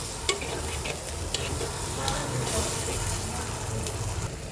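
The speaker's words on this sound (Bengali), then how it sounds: "এইবার এটাকে সুন্দর করে কষাবো" Ginger paste sautéing in a pan for a prawn curry sizzles steadily with a broad hiss, punctuated by a few sharp spoon scrapes and taps, close and fairly loud.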